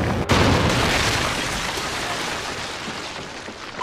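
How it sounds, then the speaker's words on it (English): A Trinity rocket strike exploding in Archangel: a sudden sharp blast followed by a long, loud rumbling roar of debris and fire that slowly fades. "Friendly Trinity rocket inbound"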